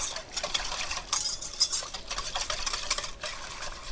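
Pacifico beer and a homemade BBQ rub are stirred together in a container, giving close, steady swishing and scraping strokes with faint clinks.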